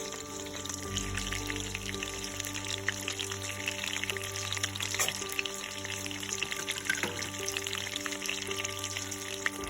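Prawns frying in hot oil for a Bengali bottle melon and shrimp dish, a steady, quiet crackling sizzle with scattered pops and a brief low clunk early on.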